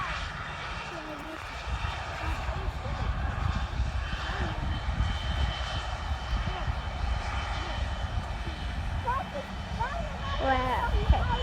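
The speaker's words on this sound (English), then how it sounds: "There's a private jet taking, I think it's taking off." A private jet takes off or lands at Rotterdam airport, its engine producing a steady, moderately distant roar that holds throughout, with people talking over it.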